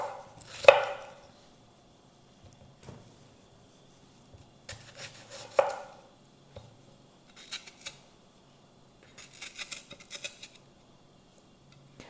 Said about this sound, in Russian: Вот так мы порезали помидоры наши.